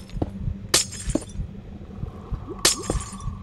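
Minecraft conduit activating underwater in a game, giving bubbling ambience with two sharp glassy bright strikes and scattered low thuds and clinks.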